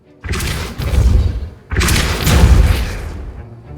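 Two heavy booming blasts of the Depulso spell in Hogwarts Legacy, each starting abruptly with a deep thud and rolling on for over a second, loud and close with no voices.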